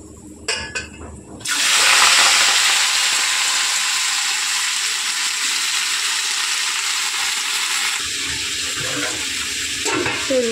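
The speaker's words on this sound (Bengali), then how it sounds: "তেল গরম হয়ে গেছে, এর মধ্যে আমি 5 ফোড়ন আর শুকনো লঙ্কা দিয়ে দেবো" Five-spice and dried chillies hit hot oil with a sudden loud sizzle that settles into a steady, bright crackling fry, with a few clinks of a utensil near the end.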